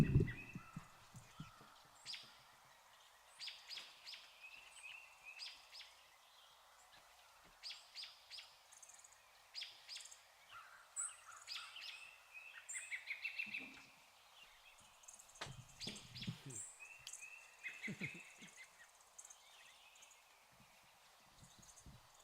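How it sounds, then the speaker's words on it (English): Birds sing and chirp outdoors, a faint scatter of bright calls throughout, with intermittent low thumps and rustles nearby. "I'll leave you with the birds."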